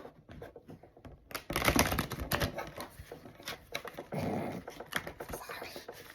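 Large oracle cards being shuffled by hand, with quick papery riffling and flicking in bursts that rise and fall, close and moderately loud.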